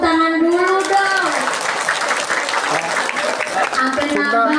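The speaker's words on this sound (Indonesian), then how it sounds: "tepuk tangan dulu dong" Audience applause at an Islamic religious gathering (pengajian) in Cikadu, a dense wash of many hands clapping that swells after a voice and holds steady, with talk over the start.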